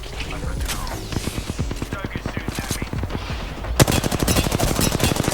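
Rapid gunfire from a Peacekeeper shotgun and other weapons in an Apex Legends match, dense bursts of loud shots that grow heavier toward the end, with a player shouting over them.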